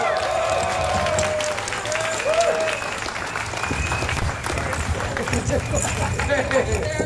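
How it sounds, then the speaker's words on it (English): A rally crowd at a Sacramento unity event applauding Assemblymember Phil Ting, a dense sustained wash of clapping with some cheering and crowd murmur throughout, loud and close. "Let's get a round of applause for Assemblymember Phil Ting."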